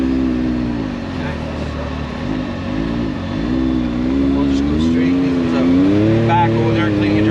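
A Can-Am Maverick X3 EVO R3 side-by-side with a newly installed tune driving in two-wheel drive, its engine droning loud and close with rising and falling revs under a voice.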